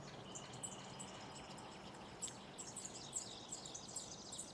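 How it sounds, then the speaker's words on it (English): Birdsong mixed into a nature-themed music track, faint chirps and tweets flickering over a soft, steady bed of sound, with a few sharper calls in the second half. "And then to really round off the nature theme, we have some Birdsong in the mix."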